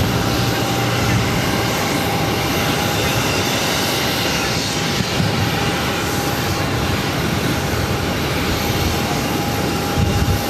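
An Airbus A320 takes off at Boston airport, giving a loud, continuous broadband engine roar with a faint steady whine. The roar holds level and dense through the whole stretch.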